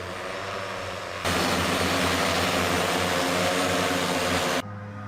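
An agricultural spraying drone works over a vineyard, its steady propeller drone swelling loud and close for several seconds before easing back to a lower, continuous hum.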